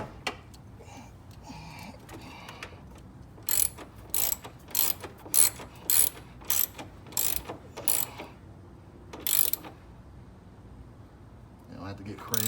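A ratchet tightening windshield wiper motor bolts, about ten sharp rhythmic bursts of clicking in a row, close and clear, with soft, sparse background sounds before and after.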